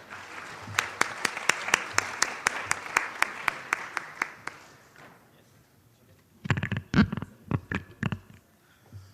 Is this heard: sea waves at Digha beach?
no